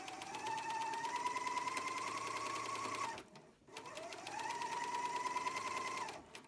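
A serger-style overlocker stitches along the edge of a cotton pillow slip in two steady, loud running bursts, with a short pause between them as the machine stops and starts again.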